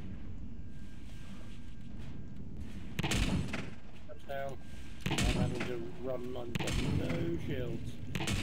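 Gunfire and explosive impacts during a battle against a drone base fortress in the game Empyrion, dense bursts of shots piling up in the middle and toward the end, with voices talking underneath.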